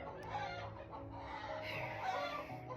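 A rescued former battery hen in a small homestead flock clucks after laying an egg, a run of moderately faint, throaty clucks rising and falling over a few seconds with no talking.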